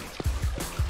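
Running water rising inside a video game level, a close, low gurgling flow with rhythmic surging pulses and no talking.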